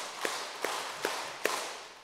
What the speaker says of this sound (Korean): 자, 박수 5번.